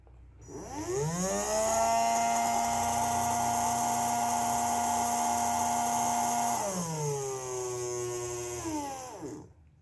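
Small DC motor in an Arduino regenerative braking setup, speed set by a potentiometer: a loud, close, high whine that rises as it spins up, holds steady, then drops in pitch and winds down.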